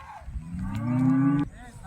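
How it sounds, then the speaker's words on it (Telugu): A large cow of good breed moos once up close, a loud, sustained call lasting about a second and a half that cuts off abruptly, with quiet farm surroundings before and after. "ఆవు మంచి బ్రీడ్ ఉంది, మంచి సైజు ఉంది"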